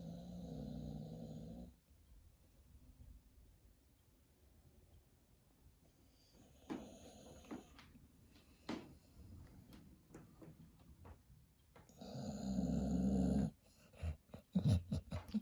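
A dog snores in low, rumbling bursts, loud at the start and again near the end, with quiet breathing and small clicks and knocks in between.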